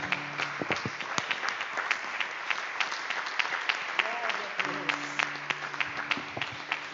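A church congregation claps in praise during an evening service, sharp overlapping hand claps rising and falling for several seconds, with voices and sustained keyboard tones underneath.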